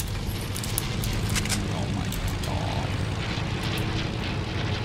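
A propeller airplane drones steadily as it flies in the Fortnite video game, its engine a constant loud hum throughout.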